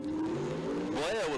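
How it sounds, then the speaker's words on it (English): An El Camino drag race car launches from the starting line with heavy tire spin at Tucson Dragway. A steady engine drone rises into a swelling, wavering roar that climbs, then dips, sounding under a commentator's voice. "Blea with a whole lot of tire spin leaving the starting line"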